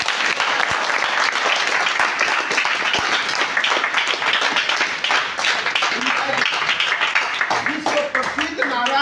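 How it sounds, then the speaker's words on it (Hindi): An audience at a public speech breaks into loud, dense applause that fills the whole stretch, with a voice starting to come through near the end. "उनके लिए एक जोरदार ताली।"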